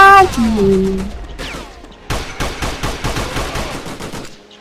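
Gunfire in the video game Code of Honor: a burst of rapid, sharp shots crackles in quick succession after a short stretch of game sounds, fairly loud and close.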